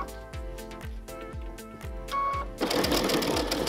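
A sewing machine stitches appliqué with variegated thread using a standard foot, running in steady rapid rhythmic bursts of needle strokes, close and clear, with a louder whirring stretch near the end.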